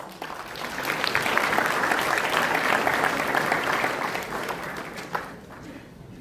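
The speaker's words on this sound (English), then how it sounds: "Let's welcome sir with a huge round of applause." An audience at a cyber security workshop gives a guest a round of applause that swells quickly, holds as dense steady clapping, then tapers off toward the end.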